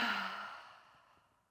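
A single slow exhale during pranayama breathwork, soft and close, starting with a breathy voiced edge and fading gradually to quiet over about a second and a half.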